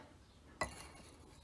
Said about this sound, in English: this, which looks like a wine glass